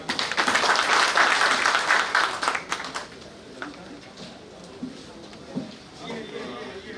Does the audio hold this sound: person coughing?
no